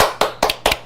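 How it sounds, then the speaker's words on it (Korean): A few sharp, evenly spaced hand claps, about four in under a second, ring out close by in a studio as a talk show opens. "일단 박수로 빨리 시작해서 여러분들 더위 날려드릴게요"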